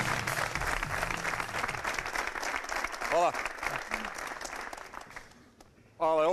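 A studio audience at a Serbian television show applauds steadily and loudly, with a brief spoken thanks under the clapping and a voice cutting in as it fades near the end.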